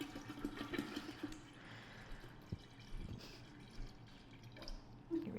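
Water pours into a mead brew made with alfalfa, a steady splashing, gurgling stream with small drips, close and continuous for several seconds without speech.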